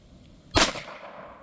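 A single sharp, loud gunshot from a Sig P322 .22 LR pistol, a sudden crack with a short fading tail, with no talking.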